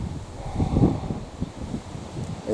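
Strong wind at sea buffets the microphone in steady low gusts, with a rough rushing roar that swells and eases throughout.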